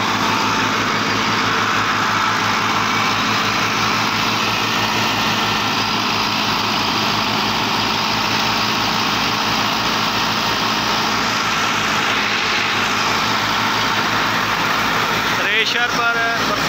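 A 2009 model 375 tractor drives a wheat thresher, a steady loud rumbling drone with continuous broadband noise throughout, with a voice talking over it.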